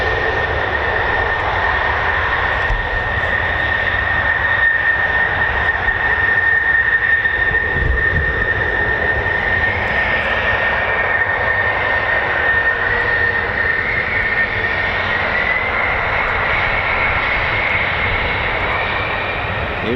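A Pratt & Whitney F135-powered F-35 fighter jet takes off at RAF Lakenheath, its loud, steady turbofan roar filling the air continuously for the whole stretch without any talk.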